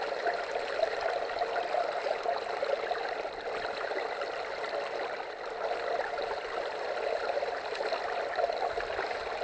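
Water runs through a GoldPro L250 gold sluice with concentrated material, a steady, soft trickling flow that continues evenly without pauses or voices.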